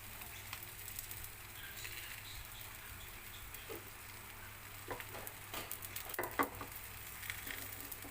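Paratha cooking in a hot pan with little oil, giving a faint, steady sizzle with light crackles and a few small scraping sounds.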